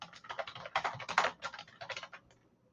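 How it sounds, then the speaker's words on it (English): Fast, uneven tapping on a computer keyboard, close and clear, in bursts of keystrokes that trail off toward the end. "So I'm just going to type in a bare minimum amount of text so that you can see how this works."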